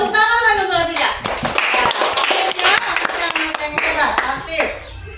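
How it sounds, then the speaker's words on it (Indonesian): Classroom clapping during an academic coaching session, a group clapping in quick bursts while a voice and other voices talk over it, close and lively. "Tepuk tangan lagi untuk Afika."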